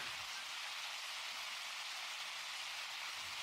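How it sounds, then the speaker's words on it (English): Steady, soft rain-like hiss running through background music, continuous and even with no talk over it. "Sounds like rain."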